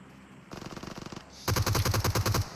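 Two bursts of automatic gunfire in a competitive PC shooter scrim match, the first quicker and lighter, the second louder and heavier with evenly spaced rounds, close and without voices.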